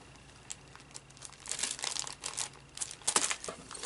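Crinkly plastic packaging on puffy sticker packs and a puffy phrase pack is handled up close, with scattered crackles building into denser rustling bursts, no voices.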